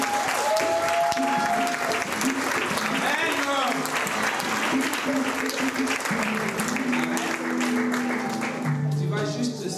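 A church congregation claps and cheers at a Sunday service, a dense, loud burst of applause that runs the whole time, with voices calling out over it.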